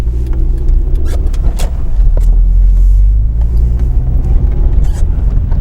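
Car driving slowly through deep slick snow, a loud low engine rumble held steady with light throttle, occasional scraping and crunching clicks over it, close and continuous.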